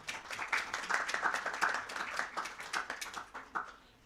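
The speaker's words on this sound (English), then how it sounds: "Please give him a big round of applause" An audience at a panel session on stage breaks into steady, moderately distant applause, a dense patter of many hands that runs for several seconds before thinning out at the end.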